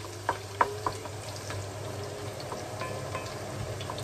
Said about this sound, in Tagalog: Wait natin na yung garlic natin ay brown na brown siya.